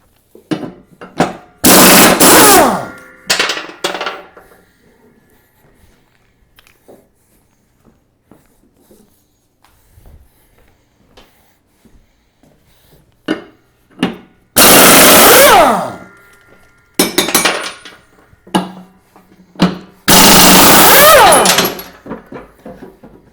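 Impact wrench removing the blades from a Kubota RCK60B mower deck, loud hammering bursts of a few seconds each separated by quieter clanks and handling noises.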